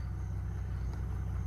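A Ford Bronco Raptor 3.0L engine idling after an oil change, a steady low pulsing rumble heard close and fairly quiet for a brief moment, with no talk.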